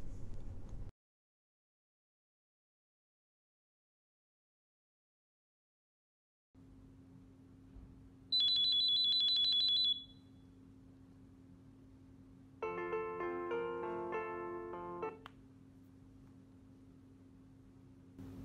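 A Wildix W-AIR DECT handset sounds its man down alarm indoors, a clear high electronic tone followed by a shorter, richer chiming alert over low room hum, after a stretch of silence.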